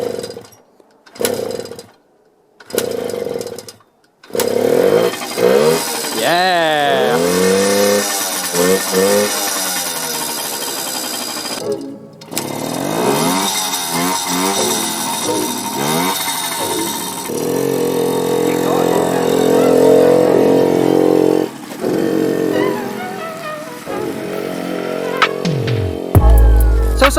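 A Suzuki JR50 dirt bike engine, just back together after a carburetor cleaning, buzzes and revs continuously at close range, with short gaps early and people talking over it.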